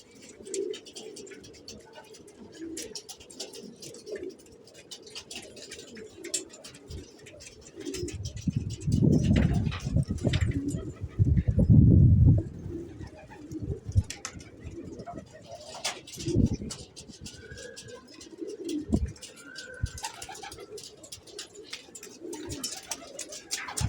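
Posta pigeons coo repeatedly in low, throaty bursts, with a loud cluster in the middle, over a background of rustling, shuffling and occasional faint chirps, in a rooftop loft.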